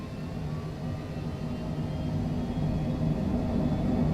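A Cessna Longitude C700 business jet in Microsoft Flight Simulator at full throttle on a flight from Sion to Geneva: a steady low engine roar and rumble that slowly swells louder, with no talking.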